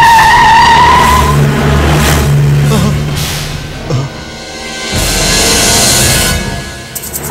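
A car pulls away with its tires skidding and squealing, a loud, sustained screech over engine roar at the start that fades out, with a scene of men fleeing from attackers in a city around it.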